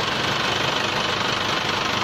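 Isuzu Panther Kapsul first-generation diesel engine running at idle, a close, steady clattering rumble with an even knocking pulse and no pauses.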